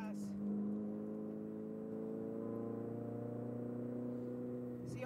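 A Ferrari 488 GTB's engine hums in a low, steady drone under gentle acceleration from inside the cabin, fairly quiet and continuous.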